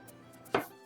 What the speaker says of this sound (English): I'm chopping these down even more because I want these to like just almost kind of like almost disintegrate into the sauce